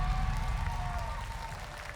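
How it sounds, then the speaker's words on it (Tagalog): Studio audience applause on a Filipino game show, steady dense clapping filling the whole short stretch at moderate loudness, with a host's voice faintly underneath. "Alam ko ang awa lang yung palakpak nyo."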